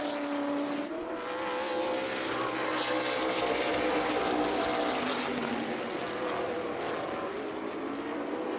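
Race cars on warm-up laps at South Boston Speedway during a CARS Tour championship weekend, a continuous, loud, blended engine roar as the field circles together, with no talk.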